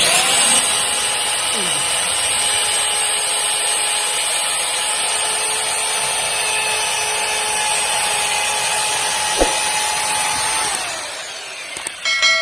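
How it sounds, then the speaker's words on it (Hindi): Heavy-duty electric drill boring into brick at normal speed with no hammer action, a loud, steady whining motor drone that holds evenly for about ten seconds before winding down. "अभी हम इसको जो है वो ईंट के ऊपर ड्रिल करके देखेंगे"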